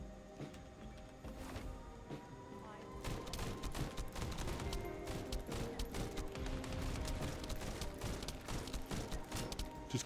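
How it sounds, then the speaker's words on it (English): Rapid bursts of gunfire and blasts from airstrikes in the video game The First Descendant, dense and continuous, growing louder and busier after the first few seconds with sharp impacts throughout. "just calls in airstrikes."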